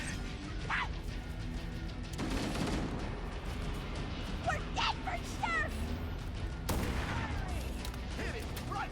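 Jackal snipers fire on the high ground in Halo: Combat Evolved, giving sharp, loud shot cracks and impacts over dense battle noise. Two heavy blasts stand out early and late, and chirping alien calls and a voice mix in.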